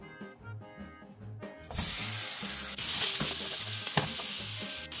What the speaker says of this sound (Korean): 중불에서 삼겹살을 먼저 볶아서 익혀줄 거예요.